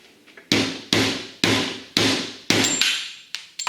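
Hammer blows tapping the cone off a seized jet pump from a Kawasaki 15F personal watercraft, seven sharp metallic strikes landing at a steady, roughly half-second rhythm, close and loud with no talk.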